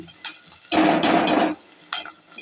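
Ginger stirred and frying in oil in a pan for curry, heard as a loud, close sizzling burst of under a second, with quieter stirring and scraping before and after.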